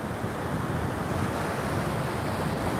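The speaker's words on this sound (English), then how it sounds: "Ooh, here comes the water" Ocean surf washes up a sandy beach in San Diego, California, a steady broadband rush of water with wind noise buffeting the microphone, close and continuous with no speech.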